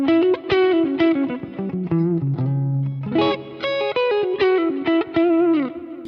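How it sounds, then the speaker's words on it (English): A clean-toned electric guitar plays a melodic phrase of single notes and bends through a Kemper amp modeler with a Deluxe Reverb capture, with a touch of amp reverb and light drive, heard alone. "I'm just playing through a Kemper that has a deluxe reverb capture."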